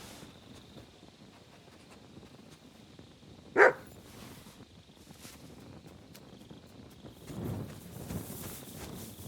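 In Kingdom Come Deliverance 2, a dog lets out a single sharp bark against a quiet outdoor backdrop of faint wind and low ambient rustle.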